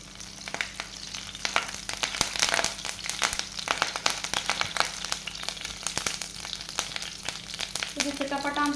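Curry leaves crackle and splutter in hot ghee in a pan, a steady dense sizzle with sharp pops throughout, loud and close, while cooking cuttlefish ghee roast.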